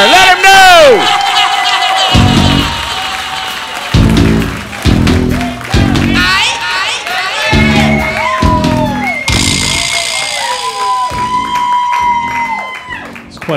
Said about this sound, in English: help me welcome to the stage, with a big round of applause, Joseph Oscar King, Esquire.